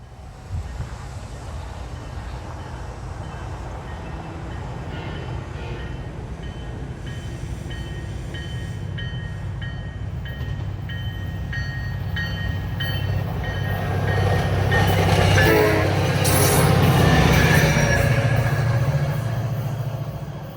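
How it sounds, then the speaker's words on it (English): A southbound SunRail commuter train passes at a rail crossing in Orlando, a low rumble building steadily to a loud close roar of wheels and engine with squealing and rattling near its peak. "we see another southbound Sunrail appearing heading south."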